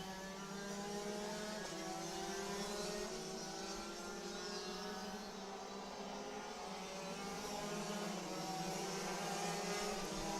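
Several Rotax Max racing karts scream through a turn at a race circuit, a loud continuous high-pitched two-stroke engine drone with overlapping revving tones, steady and close with no pause.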